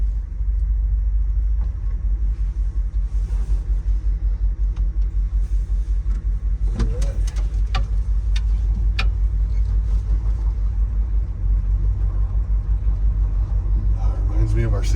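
An old Ford pickup truck engine running on choke, a steady, loud, low rumbling idle that holds throughout with a few light clicks and rattles, while voices are faintly audible in the background.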